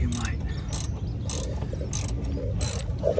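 Ratchet clicking in several quick bursts while a performance muffler is unbolted from under a VE SV6 Commodore, the clicks repeating at a steady pace over a continuous low background noise.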